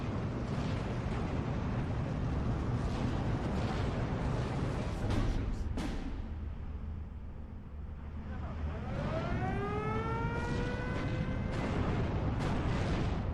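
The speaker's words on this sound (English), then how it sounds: "Oh, there's a lot of artillery firing now." Artillery barrages thunder in the Steel Division 2 wartime strategy game, a dense continuous rumble of distant booms with a brief lull and a rising whistling shell sweep, loud throughout.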